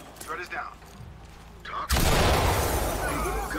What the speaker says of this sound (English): There's a dude inside that room. I'm gonna grenade it.